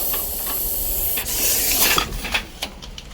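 An angry venomous snake with a thick triangular head hisses in sharp bursts like a pressure cooker whistle, a close airy rush that swells, then breaks into several short puffs toward the end.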